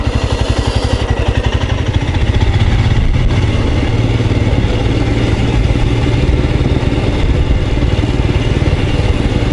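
Royal Enfield Scram 411 motorcycle engine running steadily and loud throughout while riding, a close, continuous thumping drone with a brief rise in revs early on.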